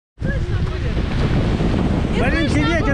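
Steady gusting wind roars across the microphone by the sea, with waves rumbling underneath and faint voices toward the end.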